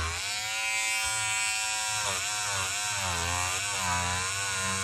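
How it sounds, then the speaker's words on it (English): A Peggy Stitch Eraser, an electric stitch-removal tool, runs against embroidery stitches with a steady close-up buzzing whir that dips and wavers in pitch as it presses into the stitching, heard alone without talk. "Now you can see what the Peggy Stitch Eraser does do."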